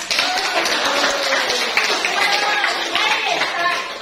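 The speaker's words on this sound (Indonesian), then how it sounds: "Beri tepuk tangan dulu lah." Students clap together in a classroom during a lesson, a dense steady patter of many hands mixed with chattering voices for about four seconds.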